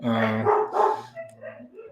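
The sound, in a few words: dog barking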